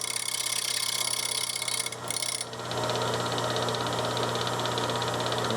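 Bench grinding wheel sharpening chisels and center punches, a steady motor whine and hum with a continuous gritty grinding hiss, briefly dipping near two seconds before resuming at constant loudness.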